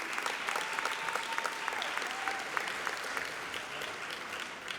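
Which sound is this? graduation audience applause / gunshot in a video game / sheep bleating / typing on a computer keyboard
graduation audience applause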